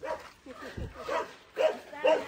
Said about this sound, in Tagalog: Kaso may aso eh.